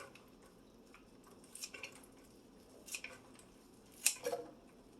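Scissors snip sunflower microgreen shoots into a plastic salad spinner, a few quiet close cuts in scattered clusters with light rustling and faint clatter, the sharpest snips coming near the end.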